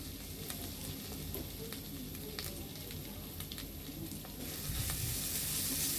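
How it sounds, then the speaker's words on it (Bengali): Grated coconut and vermicelli stir-fried in a pan for sweet zarda semai, a steady close sizzle with scraping spatula taps, growing louder toward the end, no talk. "এভাবে যখন উল্টিয়ে পাল্টিয়ে হালকা পরিমাণে ভেজে নিব।"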